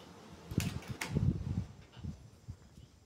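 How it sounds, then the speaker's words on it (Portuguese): An electric fan running indoors, a faint steady whooshing hum beneath a few soft knocks and rustles, with no one speaking. "eu vou desligar o ventilador aqui, porque deve estar dando interferência no vídeo."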